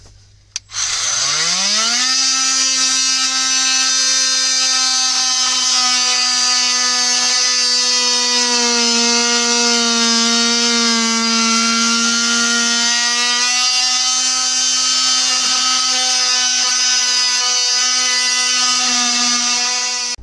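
A loud, steady motorized whine from a power tool cutting pipe at a koi pond spins up and holds at a constant pitch for a long stretch, close and continuous, then cuts off.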